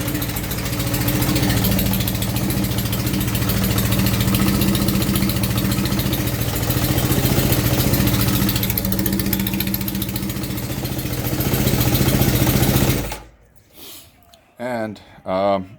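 A 1973 Honda CB750 cafe racer motorcycle engine idling after a cold start, a loud, close, steady rumbling idle that cuts off near the end, followed by a few brief bursts of talk.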